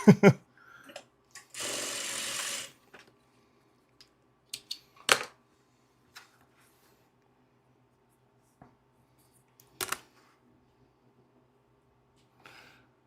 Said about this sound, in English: We'll sew 1/4 inch down on the other side here.